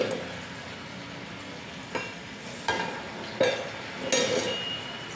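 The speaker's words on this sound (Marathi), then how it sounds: "चकली अशी शांत तरंगायला लागली की म्हणायचे चकली तळून झाली आहे" Chakli frying in hot oil, a soft continuous bubbling sizzle broken by several sharper splashes and spatters every second or so, close and fairly quiet.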